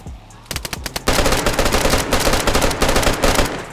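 Gunshots in the video game DayZ: a few sharp single cracks give way to a loud, sustained burst of rapid automatic fire that continues densely to the end.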